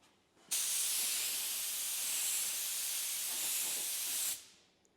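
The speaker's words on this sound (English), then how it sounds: "we're gonna start spraying the pieces" A steady, loud hiss of spray onto engine parts starts abruptly, runs without a break for about four seconds, then cuts off.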